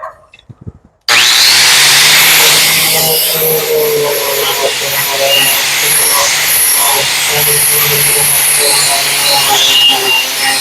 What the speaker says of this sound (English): let's get back to doing some sanding here.